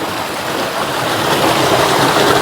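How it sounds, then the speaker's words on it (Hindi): Water pouring from a spring spout in a hill village, a loud, steady, close rushing and splashing with no pause or voices. "यहाँ धारे में तो देखो भाई आजकल कितना पानी बढ़ गया"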